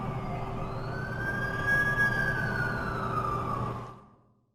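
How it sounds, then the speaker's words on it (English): An ambulance siren in the Amazing Spiderman 2 video game wails loud and steady with a rising and falling pitch, then cuts off abruptly near the end. "That's the ambulance I called."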